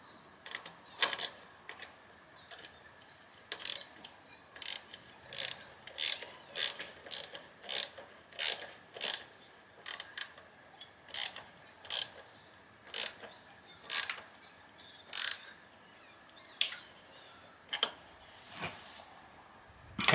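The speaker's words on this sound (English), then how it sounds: "Now I'm going to finish by tightening up the bolt over here." A ratchet tightens the exhaust bolt on a Honda CB1000R with an Akrapovic titanium slip-on, using a T40 Torx and a 13mm spanner. Close, crisp pawl clicks come in steady bursts, about twenty strokes with short pauses between them, and nobody speaks.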